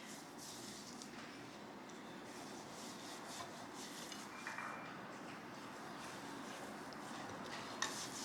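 Hands rubbing seasoning over a raw turkey breast, a steady, close, soft rasping and rubbing texture that continues without pause, with faint handling clicks now and then.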